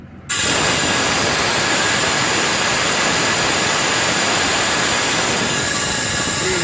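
Compressed air blasting debris out of a turbocharged Hyundai Tiburon engine bay, a loud, continuous hiss that starts abruptly and holds steady at close range.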